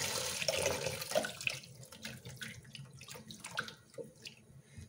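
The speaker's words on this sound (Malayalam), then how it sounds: "ആദ്യം നമുക്ക് ഇത് കുറച്ച് വെള്ളത്തിലിട്ടൊന്ന് ആദ്യം ഒന്ന് കഴുകാം" Grapes for juice soak and get washed in a bowl of water, giving close splashing and sloshing with trickles and drips that start busier and thin out into scattered small splashes.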